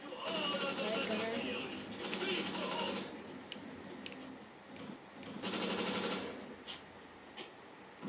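Rapid bursts of automatic gunfire from the Call of Duty 5 beta rattle in long strings, broken by pauses and a few single shots, with voices talking underneath.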